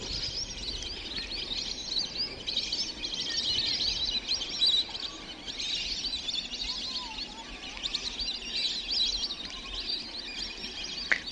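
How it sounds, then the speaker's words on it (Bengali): A large flock of migratory birds over a deep lake in Manikganj, a dense continuous wash of high thin chirping and twittering from many birds at a distance, steady and fairly faint, with no voices. "এই গভীর ঝিলের উপরে শত শত না হাজার হাজার পাখি এরকম অবস্থান করে কি সুন্দর কিচিরমিচির শব্দ হয়"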